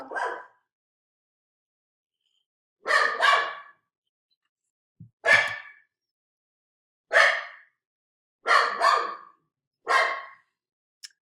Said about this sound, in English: I'm going to stop and wait for my dog to stop barking.